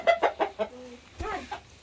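Chickens clucking nearby on a small farm, a quick run of four or five sharp clucks followed by a softer, drawn-out cluck, no talking.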